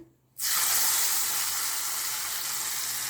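A hot oil tempering with curry leaves and asafoetida for brinjal sivangi pulusu bursts into a loud, close sizzle that starts abruptly and then hisses steadily without pause.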